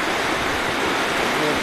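Water rushes continuously over a river weir, a dense, steady roar with no breaks, close and fairly loud.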